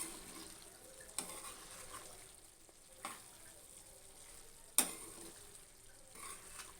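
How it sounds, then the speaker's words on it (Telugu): Chicken gizzard fry with curry leaves being stirred in a pan, a faint steady sizzle broken by three distinct scrapes or taps of the spoon against the pan. "ఇవన్నీ యాడ్ చేసుకొని మంచిగా దగ్గరికి అయ్యేదాకా మంచిగా కలుపుకుందాం"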